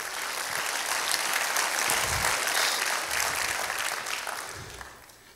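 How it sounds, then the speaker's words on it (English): Church congregation clapping at a Sunday service, a full, continuous round of hand claps from many people, with a few low thumps mixed in, tapering near the end. "give the Lord a clap offering"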